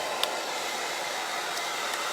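A hair dryer running steadily to dry paint on a heart and buffalo plaid DIY sign, a constant airy whoosh at moderate level with a couple of tiny ticks.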